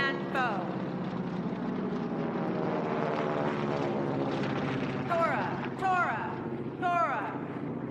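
Warbird aircraft, B-17 bombers and Zero fighters, fly in an air show attack reenactment with a steady droning engine roar throughout and a few sharp, rising whistles or shrieks near the end. Wind buffets the microphone.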